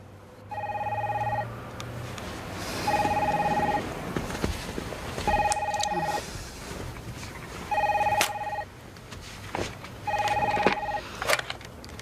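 Five bursts of a telephone ringing, each trill lasting about a second and separated by pauses of roughly a second and a half, loud and close with faint room noise between the rings.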